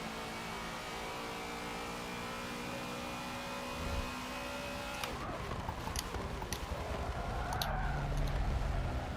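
A race car engine in Forza Motorsport 7 drones at a steady pitch, then shifts and revs through changing tones with sharp clicks and accelerating bursts, fairly quiet and with no talking.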